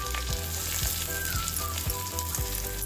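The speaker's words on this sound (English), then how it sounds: "And we'll fry this till it turns brown, the coconut pieces." Small pieces of fresh coconut, with slit green chilli, fry in hot oil for a Kerala kadala curry, giving a steady close sizzle with a few soft knocks of stirring and no talk.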